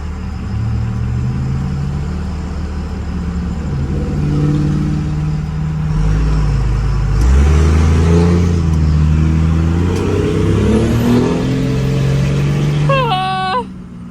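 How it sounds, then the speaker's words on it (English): A diesel pickup truck engine runs steadily with a deep rumbling idle that swells as it revs midway, close and loud throughout, with brief voices near the end. "Now she's fucking running like a champ."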